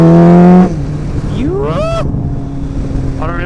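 Suzuki Bandit 1250 motorcycle exhaust, loud and close, holding a steady idle-like drone before rising in pitch through a quick rev, then settling and building again as it accelerates.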